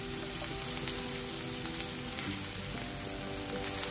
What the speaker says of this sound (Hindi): इधर ऑयल भी गर्म हो गया है, तो अभी मैं सबसे पहले ये ऑनियन पैक कर दूँगी।